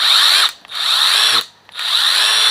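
A handheld power driver for driving screws whines loudly and close in three bursts, each cut by a brief pause as the trigger is released, with no talking.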